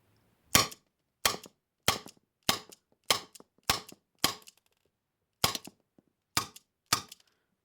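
Tanaka S&W Model 36 Ladysmith airsoft revolver firing BBs, ten sharp, close shots in a fairly even rhythm with a brief pause partway through, no voices.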